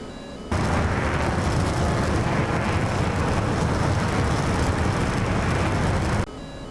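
An F/A-18C in DCS lets loose a missile with a sudden loud, broadband roaring rush that holds steady for nearly six seconds and then cuts off abruptly, with no talking over it.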